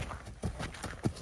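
A few quick hoof clops from a half-blind horse trotting during show-jumping riding, close by, in a short burst with light background noise.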